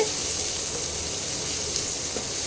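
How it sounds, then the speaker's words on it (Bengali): Thinly sliced onions fry in a pan with a steady, close, even sizzle and no talking. "পেঁয়াজটা একটু ভাজা ভাজা হোক,"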